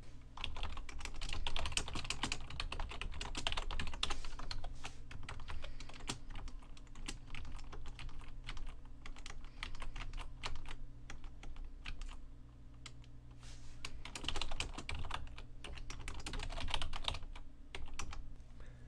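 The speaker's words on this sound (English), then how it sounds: "we can start typing in our text" Typing on a computer keyboard: fast, irregular clicking keystrokes close up, continuing steadily with brief pauses, with no talk.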